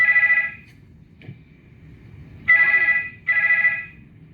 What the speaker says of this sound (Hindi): ये मेहता साहब का फोन आ गया।